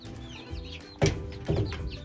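Chickens clucking outside the coop in the evening, a few close, sharp clucks and short calls rising over quieter background fowl chatter, with two louder bursts.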